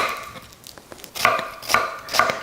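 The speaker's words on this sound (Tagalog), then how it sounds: "Hinihiwa ko lang ito ng manipis at ng pahaba." A knife slices an onion thinly lengthwise on a board while preparing sautéed bitter gourd, giving a few faint taps and then three crisp, evenly spaced cutting strokes at close range.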